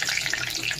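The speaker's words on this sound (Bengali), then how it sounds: "তারপর এখানে আমি আলুগুলোকে ভালো করে ভেজে নিচ্ছি নুন হলুদ দিয়ে।" Potatoes frying in mustard oil with salt and turmeric give a steady, close sizzling hiss that holds level throughout, with no talking.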